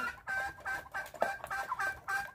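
Pet hens eating feed, with quail feeding nearby, cluck in short, close bursts separated by brief gaps, a fairly quiet and busy back-and-forth.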